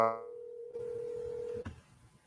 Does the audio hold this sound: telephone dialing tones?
yes